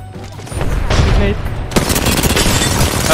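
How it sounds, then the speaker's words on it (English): Video game gunfire from an opposing team bursts out in loud, rapid volleys, growing denser partway through, with heavy booming shots stacked together and a voice faintly underneath. "Another team shooting me."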